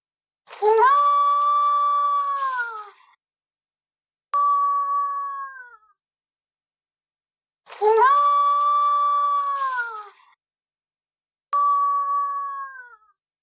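A human voice imitates wolf howls: four sustained, gliding howls in two pairs, each long howl followed by a shorter one, close and clear with silence between.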